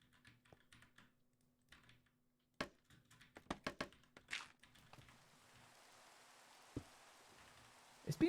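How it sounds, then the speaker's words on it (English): Rain in a video game comes in as a steady, soft hiss that fills the second half, after a run of close keyboard typing clicks and taps. "It's been raining a lot in the game recently."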